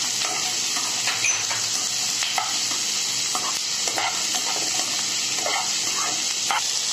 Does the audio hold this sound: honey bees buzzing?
no